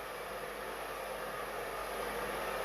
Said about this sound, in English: And see how the blow dryer doesn't catch? It just goes right through.